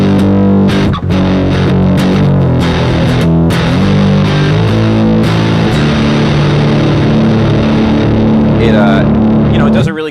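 An electric guitar played on the neck pickup through a new Maestro distortion pedal, warm round overdriven chords ringing out continuously and loud, with a few sharp attacks and no talking.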